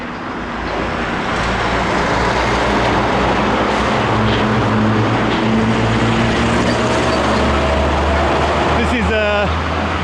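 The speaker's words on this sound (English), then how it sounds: "Sorry it's noisy, but this is a very busy area." Heavy roadway traffic in a busy area beside a road and flyover construction site at the Marsa junction in Malta, a loud constant roar of passing vehicles with low engine drones throughout.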